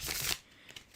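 Tarot cards riffled in one short, crisp burst of papery shuffling close by, followed by a couple of faint soft card taps, with no talk.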